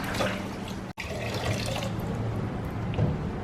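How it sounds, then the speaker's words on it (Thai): Sticky rice being rinsed and swished by hand in water until the water runs clear, with steady running and splashing water from a tap into a sink, one brief dropout near the start, no talk. "เราก็ซาวซาวนะคะจนน้ำมันใสเลยนะคะ สักสองสามครั้งนะคะ"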